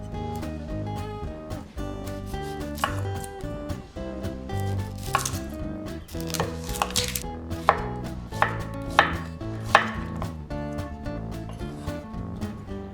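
A knife chops onion on a cutting board in a steady run of crisp, close taps, prepping vegetables for a homemade black bean sauce beef stir-fry, with background music playing throughout.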